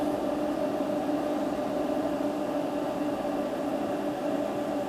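A steady electric hum with a faint hiss as a 1.5 kW electric kettle powered by solar panels and an inverter begins to heat water, holding constant and fairly quiet throughout.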